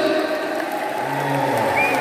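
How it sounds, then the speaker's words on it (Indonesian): Audience applause for the Golkar party at a briefing of party witnesses in Blora, a steady even wash of clapping from a crowd lasting the whole stretch. "Tepuk tangan buat Golkar"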